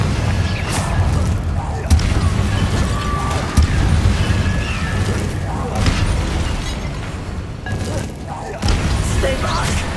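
Confringo blasting spell from Hogwarts Legacy going off in a series of loud booming blasts within busy battle sounds, with a few sharper cracks and rumbling impacts through the span.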